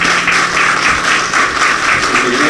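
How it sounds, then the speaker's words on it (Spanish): Audience applause for a town mayor at a Spanish-speaking community gathering, a loud, dense and sustained burst of many people clapping close by, with no speech on top. "quiero que le tributemos un fuerte aplauso al señor alcalde Eddie Chávez"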